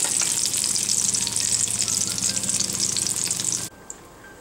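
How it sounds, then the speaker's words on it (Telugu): Eggs fry in an oil-filled pan while egg kurma is cooked, giving a steady, close hiss and crackle that holds for most of the stretch, then cuts off abruptly near the end, leaving quiet. "బ్రౌన్ కలర్ వచ్చేంత వరకు ఫ్రై చేసుకోవాలి ఎగ్స్ని"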